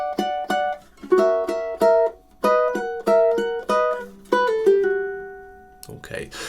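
A ukulele plays measures 27 and 28 of the Nutcracker March, with crisp plucked double stops and single notes in a lively march rhythm. The last note rings out and a short noisy burst follows at the end.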